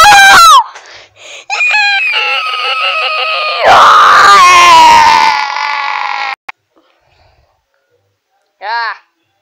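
Shrill, high-pitched screams voiced for Pikmin plush characters come in several loud bursts, some sustained and wavering, then drop to silence before one last short squeal.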